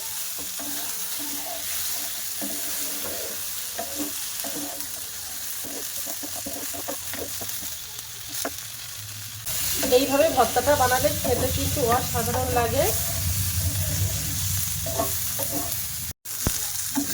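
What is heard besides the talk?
potatoes and tomatoes frying in a pan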